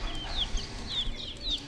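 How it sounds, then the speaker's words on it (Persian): Young chicks peeping with high, repeated chirps over a steady low background murmur, a few soft clucks mixed in, with no talking at a market stall selling chicks. "جوجه با جیگ جیگ جیگ جیگ داریم"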